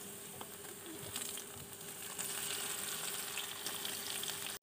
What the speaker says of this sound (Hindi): टमाटर को कुछ देर पकाएंगे, एक मिनट के लिए।